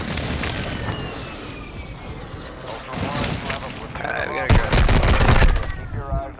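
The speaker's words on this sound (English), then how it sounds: "Friendly airstrike in the AO" Airstrike explosions and gunfire rumble through a DMZ game match, with a dense layer of blasts and shots swelling louder toward the end, while a player talks over the battle.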